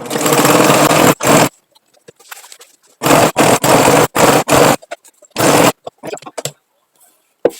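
A sewing machine stitches a scrap-fabric rug in short, loud, close bursts of rapid whirring, stopping and starting several times with brief silences and small handling noises between runs.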